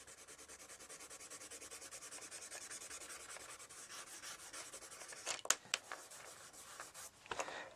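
Colored pencil rubbing on paper while drawing a background: a steady, soft rhythmic scratching of strokes back and forth, close and quiet, with a few sharper scrapes near the end and no talking.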